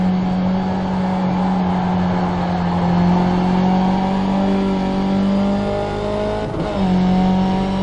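Race car at Brands Hatch circuit, engine droning loud and close with a strong steady pitch, briefly dropping and changing as it shifts gear near the end, then resuming its sustained roar; no voices.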